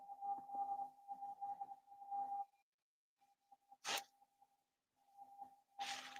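Steady electronic beeps in short and long pulses resembling Morse code, fairly quiet, broken by a gap and two sharp bursts of static crackle.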